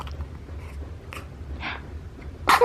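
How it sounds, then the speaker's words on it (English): A newborn with RSV lets out a single sudden sneeze, close and short, at the end of a quiet stretch of soft rustling. "Big sneeze."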